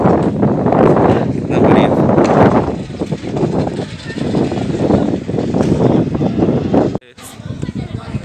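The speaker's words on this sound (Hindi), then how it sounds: "ऊपर से हवा चल रहा है बढ़िया" Wind blows outdoors at a flower garden near a science centre, buffeting the microphone in a steady broadband roar under speech before cutting off abruptly near the end.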